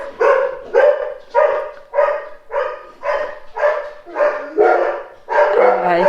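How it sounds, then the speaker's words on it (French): Two dogs barking in a steady run of loud, close barks, about ten in six seconds, sometimes overlapping, indoors at a home. "Je pense que vous entendrez peut-être mes chiens aboyer"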